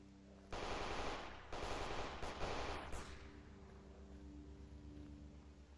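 Sustained automatic gunfire in the modded shooter S.T.A.L.K.E.R. Anomaly: two dense, rattling bursts that fade into a quieter steady hum, and no one speaks.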